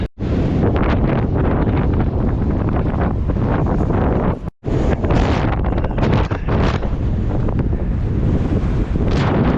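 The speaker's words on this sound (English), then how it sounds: "Awful windy out." Strong wind on a beach after a storm buffets the microphone in a loud, continuous roar with surf rumbling beneath, broken only by one brief dropout.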